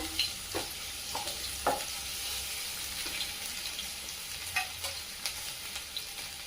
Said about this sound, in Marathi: गॅसवर कढई तापत ठेवून त्यामध्ये तेल टाकून घेतलंय मध्ये टाकून घेऊया लसूण